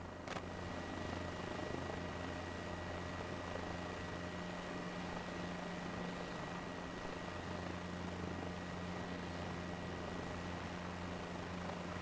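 A helicopter in Microsoft Flight Simulator 2024 on PS5, a continuous droning rotor and engine hum at steady loudness with a low tonal whine, no voices.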